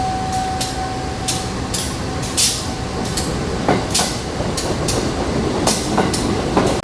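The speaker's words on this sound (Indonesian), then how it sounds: "Lokomotif setua ini tahun 78 narik kereta rangkaian Stainless" A 1978 diesel locomotive pulling a stainless steel passenger train rolls past close by, with steady rumble and rhythmic clacking wheel bursts repeating every half second or so, no voices.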